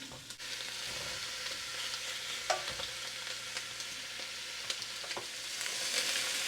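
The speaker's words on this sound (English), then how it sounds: "I have that pan nice and hot, so I'm going to sear the skin just a bit." Chicken thighs sear skin-down in a hot pan, a steady, fairly quiet sizzle with occasional small pops and scrapes.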